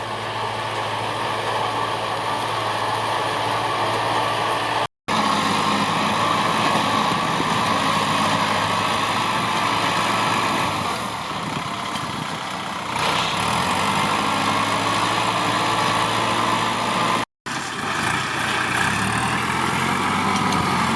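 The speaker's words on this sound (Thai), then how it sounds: "การทำงานไปเรื่อยครับ ฟังเสียงเครื่องยนต์" A Kubota L5018 tractor engine runs steadily and loudly while ploughing a field, a continuous rumbling drone with slight shifts in load and no talking.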